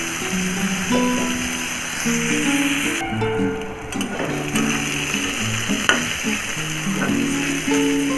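Yard-long beans frying together with green chillies in a pan, a steady close sizzle with soft stirring scrapes, bursts of background music running underneath throughout.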